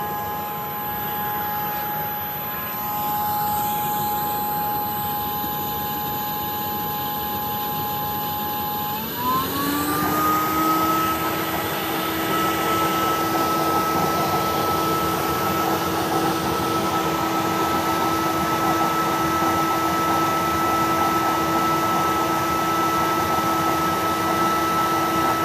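A 2025 Hyla EST water canister vacuum cleaner runs with a steady, loud motor whine that rises sharply in pitch and strength partway through, then holds at the higher speed.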